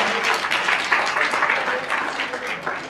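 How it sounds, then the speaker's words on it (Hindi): Audience clapping to welcome a second group onto the stage at an Odia youth talk, a steady dense wash of applause lasting throughout, fairly loud with a few voices mixed in. "करताली दे स्वागत करबा"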